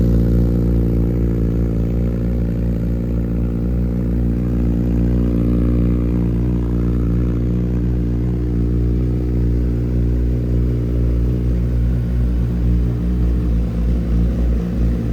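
A 2023 Honda CBR1000RR motorcycle with an aftermarket Alpha pipe exhaust idles loudly and steadily up close, its deep, throaty exhaust rumble holding an even, unbroken tone throughout.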